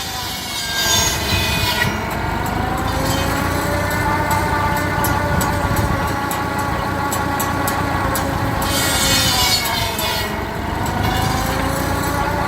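Saw cutting firewood at a gas and steam show, a steady loud rasping cut with an engine drone underneath that continues for the whole stretch, briefly easing and rising again.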